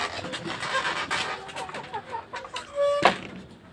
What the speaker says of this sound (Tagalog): Ito na yung mga golden back niya, mga kasag.